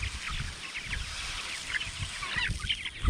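Chickens clucking around a mobile chicken coop, with repeated overlapping clucks and murmurs heard close up over steady outdoor background noise.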